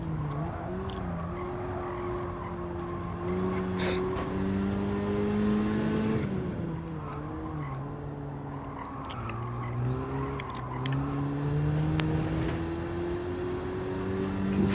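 A Hyundai Elantra N in Gran Turismo 7 at Deep Forest, engine droning steadily through corners with shifting pitch and tyre scrub from understeer, loud and continuous with no voices.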